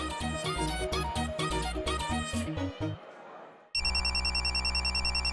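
A phone rings in a Hindi TV drama, its steady electronic ringtone starting abruptly and loud after a stretch of music fades out.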